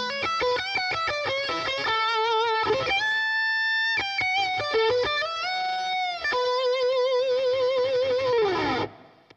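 Electric guitar played through a PRS compressor pedal, with bright, evenly sustained single-note lines and bends, some held notes, and a steady, smooth level before the final note fades.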